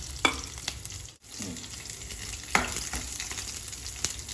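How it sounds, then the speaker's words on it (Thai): Garlic fries gently in oil over low heat in a pan, a steady soft sizzle and crackle heard close up with occasional scraping stirs, and no one talking. "ทำกระเทียมเจียวก่อน ใช้ไฟอ่อนๆเพื่อผัด"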